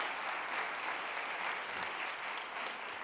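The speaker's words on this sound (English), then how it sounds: "Let's give a round of applause to our operations team for the work that they've done" Sustained, dense applause from a large audience at a school district address, steady and fairly distant, filling the whole stretch with no talk over it.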